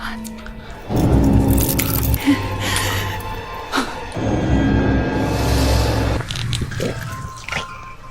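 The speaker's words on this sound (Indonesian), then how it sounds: "si kakak sedang asik mengunyah beling bak debus kuda lumping" Loud, wet crunching and squishing bites as broken glass is chewed steadily up close in two long stretches, with scraping clicks between them.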